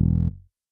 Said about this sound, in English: But you definitely do hear the buzz, the tone of the distortion.